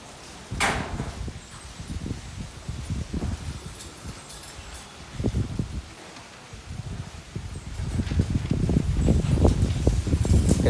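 A strong, dry windstorm blows in gusty bursts with rustling and rattling debris, building louder toward the end and staying loud throughout.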